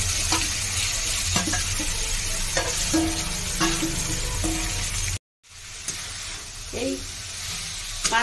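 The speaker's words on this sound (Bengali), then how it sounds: "তার মধ্যে সেই থেতো করা চালতাগুলো দিয়ে এভাবে মিনিট এখন নাড়তে থাকবো। এইভাবে তেলের উপরে ভালো করে এটা ভেজে দিতে" Crushed elephant apple (chalta) fries in oil for a pickle, giving a close, constant sizzle while a spatula stirs and scrapes the pan. A brief dropout cuts the sound midway, and a short spoken word is heard.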